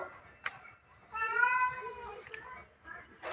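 A house cat meows in a drawn-out, rising and falling cry near the mic, amid a kitchen scene with live tilapia fish brought home, with a few soft clicks before and after.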